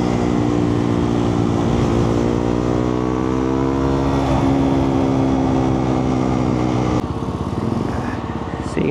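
A Husqvarna Svartpilen motorcycle engine hums steadily while riding in traffic, a close rising drone that shifts as the throttle changes, then drops sharply as the revs fall near the end, with wind noise throughout.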